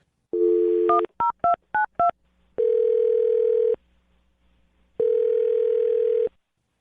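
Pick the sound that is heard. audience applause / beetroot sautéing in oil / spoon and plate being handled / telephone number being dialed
telephone number being dialed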